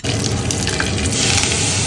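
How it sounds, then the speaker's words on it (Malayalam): Hot tempering of mustard seeds, fenugreek, curry leaves and dried red chilli is poured into a pot of curry, giving a brief, loud, close hiss and sizzle with no talking. "കടുക്, ഉലുവ, കറിവേപ്പില, വറ്റൽമുളക് കേട്ടോ ഇതിലേക്ക് ഒഴിച്ചു കൊടുക്കാം നമുക്ക്"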